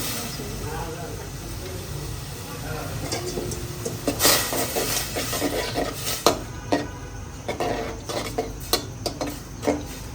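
Onion and shrimp sautéing in a pan as a spoon stirs and scrapes, with a steady background sizzle and sharper clinks and scrapes in the second half, close and moderately loud.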